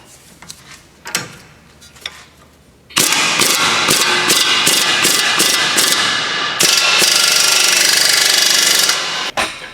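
Tightening a bolt with a 1 1/16 socket to pull a front wheel bearing from a Honda Civic on the car, a loud close burst of rapid ratcheting impact hammering after a few quieter clicks and knocks, no talk.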